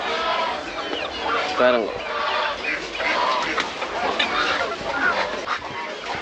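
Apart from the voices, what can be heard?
chickens clucking at a Madagascar farm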